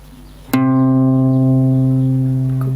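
A single guitar string, the low E, is plucked once, ringing out clearly and sustaining as it slowly fades, close and alone.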